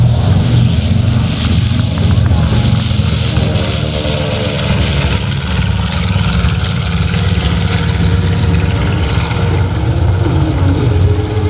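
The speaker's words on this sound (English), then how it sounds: "we have the B-25. Take it off." A B-25 warbird bomber takes off at an airshow, a loud, steady roar of its radial piston engines filling the scene with continuous low rumble, no talk over it.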